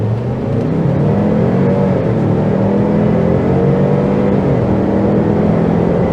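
A 2022 Lincoln Navigator accelerating hard from a standstill, heard from inside the cabin as a loud, steady engine roar whose pitch climbs and dips through gear changes.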